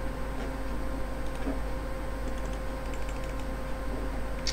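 Computer mouse clicks during Minetest play, a run of quick light taps and ticks over a steady background hum, close and fairly faint, with no talk.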